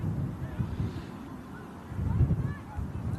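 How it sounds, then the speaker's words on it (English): Gusty wind buffets a microphone outdoors at a plane-spotting spot, gusting around 25 knots, producing uneven low rumbling bursts that swell and fade across the stretch. "The wind sounds eerie, saying Vanessa."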